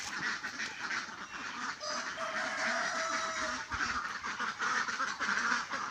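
Ducks rest and swim on a pond, quacking steadily in a busy, overlapping chorus at moderate distance, with outdoor background noise and no clear talk.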